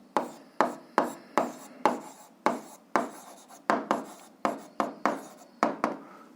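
A pen scratches across paper while writing out the check of an 8th-grade algebra solution: quick, regular strokes about every half second, close and fairly quiet, with no talking.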